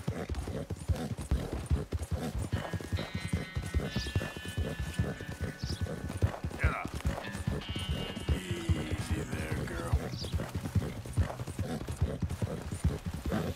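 Arabian horse hooves gallop in Red Dead Redemption, a steady rapid clip-clop running under the whole stretch with game music and occasional whinnies layered over it.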